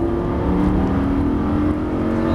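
Lamborghini Gallardo LP560-4 accelerating again out of a corner on the Circuit de l'Ouest Parisien, a steady loud engine drone with rising harmonics, close and continuous throughout.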